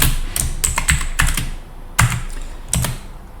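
Commands typed on a computer keyboard in short bursts of crisp, close key clicks with brief pauses between groups, no talk over them.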